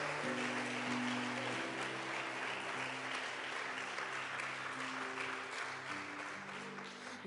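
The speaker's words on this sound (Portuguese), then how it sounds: "dê um aplauso bem forte ao Senhor" A church congregation claps hard and continuously, a dense, steady wash of applause with a faint musical tone underneath, no break throughout.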